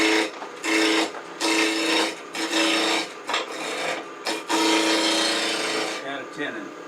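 A wood blank spins between centers on a lathe, likely around 1500 rpm, giving loud rasping bursts of cutting that stop and start in short passes, with brief quiet gaps between them.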